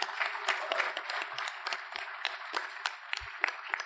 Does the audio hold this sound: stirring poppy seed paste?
no